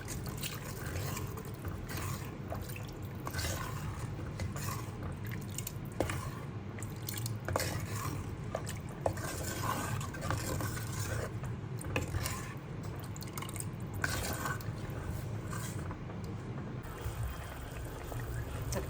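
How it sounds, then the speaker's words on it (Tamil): Tangy South Indian tomato curry with water added bubbles in a pot, a steady simmer of small pops and drips throughout, with no one talking. "தக்காளி நல்லா கொதிக்குது."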